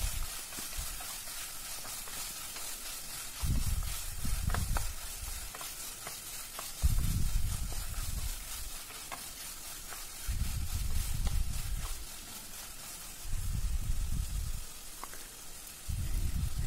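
Butter beans and vegetables for a bread pulav sizzle softly in a pan while being mixed, with repeated low stirring strokes arriving in separate bursts over a gentle frying hiss.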